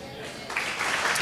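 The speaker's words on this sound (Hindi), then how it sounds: "बस बस ऐसी सुस्त ताली खुद रख लो" Church congregation offering slow, half-hearted applause that starts thin and builds into a scattered patter of hands, brief and moderately loud.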